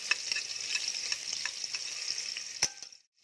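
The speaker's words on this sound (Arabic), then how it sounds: "هنزل بمعلقه توم اشوحها كده في الزيت" Garlic sautéing in a spoonful of oil in a pot, a constant close crackling sizzle with stirring scrapes and one sharp clink near the end before it cuts off abruptly.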